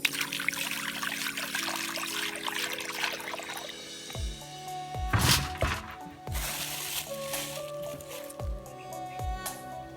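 Raw pork belly is rinsed in water before cooking: close splashes, trickles and pours with wet squishing handling and occasional dull thunks against a container, with no speech.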